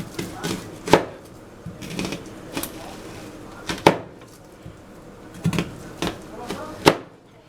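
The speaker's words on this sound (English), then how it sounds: "I'm gonna chop it." A knife chops on a board in irregular sharp thuds, about a dozen strikes in loose bursts with pauses between, close and distinct.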